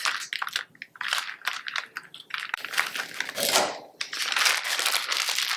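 Scissors snipping through a piping bag packed with deviled egg filling, close crinkly plastic crackles and scrunching in quick bursts, with a brief pause before a denser rustle.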